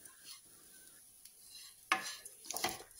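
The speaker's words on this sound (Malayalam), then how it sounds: "ഇത് നമുക്ക് നന്നായിട്ടങ്ങ് മൂപ്പിക്കണം, നല്ലതായിട്ട് മൂപ്പിക്കണം." Grated coconut roasting in a pan for homemade coconut curry powder, with soft scraping and stirring, then two louder bursts of clattering scrapes and sizzle near the end; quiet and close, no talking.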